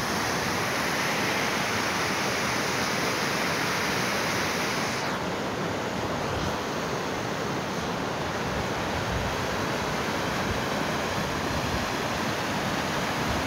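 Stream water flowing past a riverbank, a steady broadband rush that holds constant throughout, fairly loud and close, with no voices.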